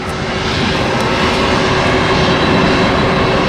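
Airliners lifting off from an airport runway, a loud, steady jet engine roar that fills the air and swells slightly, with no speech over it.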